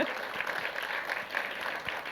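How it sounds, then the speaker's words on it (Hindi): At a film trailer launch event, a crowd applauds in a continuous wash of clapping at moderate, fairly even loudness, with faint voices mixed in underneath. "प्रोड्यूसर ने जोरदार ताली मार दी इसी बात में।"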